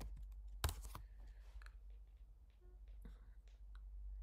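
Typing a terminal command on a computer keyboard, with a handful of faint, scattered key clicks under a steady low hum.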